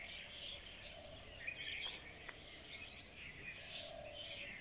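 Small birds chirp and twitter continuously in a calm early-morning setting outside a textile institute in Barishal, a steady moderately distant chorus with faint insect-like hiss underneath and no talking.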